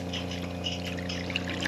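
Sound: brine water flowing out of boat watermaker

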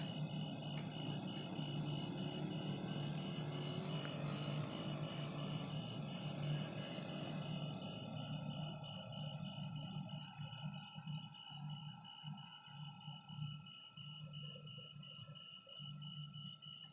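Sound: ice factory machines droning at night

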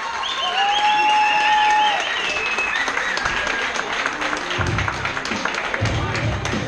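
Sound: applause for both fighters at amateur Muay Thai bout

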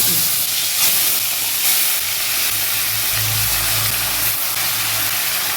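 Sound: marinated chicken pieces frying in oil for biryani

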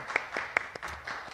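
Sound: conference audience applause for speaker

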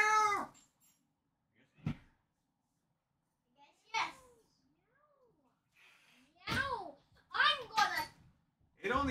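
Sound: cat meowing in Roblox video game

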